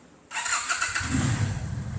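A Lifan V16S V-twin motorcycle engine fires up abruptly after a brief quiet moment, then settles into a loud, close, throbbing idle with a deep low growl.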